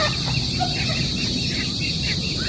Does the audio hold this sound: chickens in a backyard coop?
yes